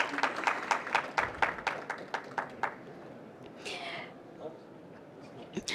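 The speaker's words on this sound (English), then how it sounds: "you make sure you clap until they take their seat" An audience at a climate pavilion opening claps for arriving guests, the claps distinct and fairly distant at first, then thinning out, with faint voices and room murmur continuing.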